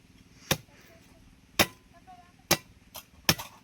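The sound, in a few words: coconut being cut with a blade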